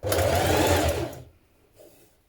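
A sewing machine runs a narrow hem along the bottom of a dress ruffle in one loud, steady burst of rapid stitching for about a second, then stops, leaving faint handling noises.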